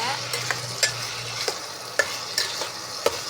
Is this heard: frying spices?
yes